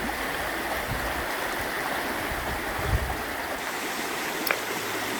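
Fast-flowing water of the Carbon River rushing continuously at close range, a steady broadband roar with a couple of faint knocks and no talk.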